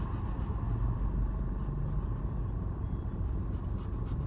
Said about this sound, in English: All these cars around, people walking down the street, lots of different noises.